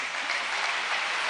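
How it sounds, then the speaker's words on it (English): A church congregation claps hands in praise, producing a brief, dense burst of applause about a second long, evenly sustained and fairly close. "let's clap our hands to Jesus"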